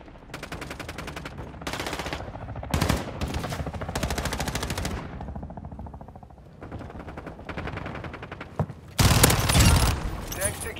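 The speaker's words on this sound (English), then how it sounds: "Decoy grenade!" Rapid bursts of automatic gunfire from a decoy grenade in Call of Duty: Modern Warfare 2, loud and close, coming in several short volleys with brief gaps and a sharper, denser burst near the end.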